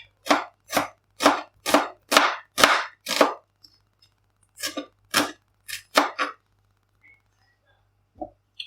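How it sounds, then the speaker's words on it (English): Onions being sliced on a board in a home kitchen: a quick, even run of about eight sharp knife chops, a short pause, then a few more cuts, crisp and close. "slice up some onions and get them soft."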